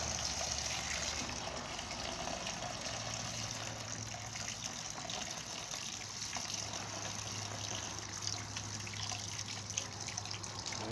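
Strained blackberry wine is poured out into a separate vessel, a steady splashing gush over a low hum, continuous and moderately quiet throughout.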